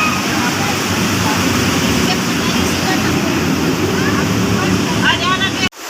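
Cold water rushing steadily at a resort in Magbais, Claveria, a loud continuous wash with a windy roar, cutting off abruptly near the end.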